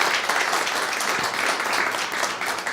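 Steady applause from a large crowd fills the room, dense and sustained without pause.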